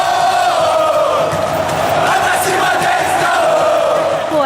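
Atlético Mineiro supporters chanting their war cry together, a sustained, loud massed roar of voices from a large stadium crowd that holds steady without a break.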